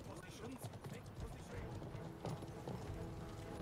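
Horse hooves clip-clop steadily on the ground in Conqueror's Blade during a 6v6 Colosseum gladiator battle, a continuous rhythmic trotting with a brief whinny, layered under game noise.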